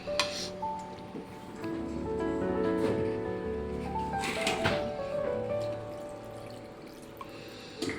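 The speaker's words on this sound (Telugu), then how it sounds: "ఒక చిన్న గ్లాస్, టీ గ్లాస్ అంతా వాటర్ పోసానండి." A small tea glass of water poured into a simmering egg, tomato and raw lentil curry in a pan: a short gurgling splash with a rising ringing tone, near and moderately loud, then a soft bubbling hiss.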